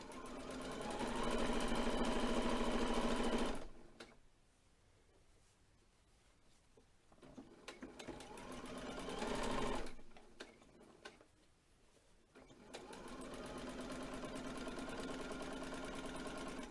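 A sewing machine top stitches close to the edge of a fabric face covering, running in a steady mechanical whir for several seconds, pausing, running briefly again, then resuming for a final stretch; no talk.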